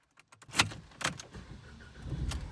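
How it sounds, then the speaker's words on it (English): Keys jangle briefly, then a Ford car engine cranks and catches, settling into a low idle rumble close by. "Engine fires right up."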